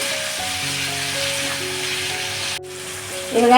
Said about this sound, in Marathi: आता हे चांगलं ना मऊ होईपर्यंत मी परतून घेते